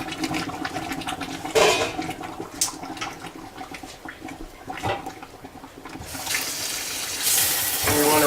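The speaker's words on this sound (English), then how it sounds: "we're going to pour them into the sieve, drain the water off" Water rushes and splashes steadily as cooked vegetables are poured and drained through a sieve, with a louder gush near the end.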